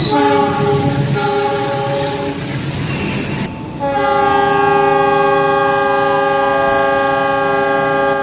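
A CC206 diesel locomotive passes close by, its horn sounding in a long, loud, sustained multi-tone blast over the heavy roar of the engine and rolling wagons.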